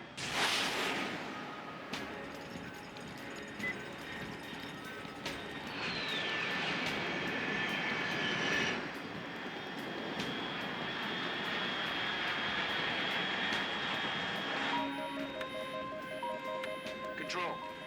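An unidentified fast aircraft flies high overhead in the video game Metal Gear Solid Delta: Snake Eater, a steady, sustained jet roar with a whining tone, continuing through the clip under a voice talking.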